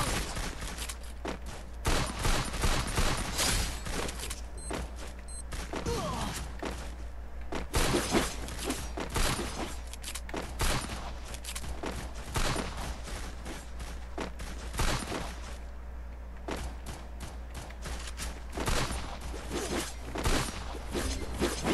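Rapid, dense bursts of gunfire in the battle royale game Free Fire, loud and continuous crackling shots with brief lulls, layered over constant background game noise.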